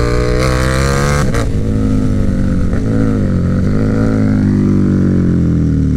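A KTM Superduke 1290R engine accelerating hard, loud and close, its rising roar climbing through the revs with brief dips at gear changes and constant wind noise.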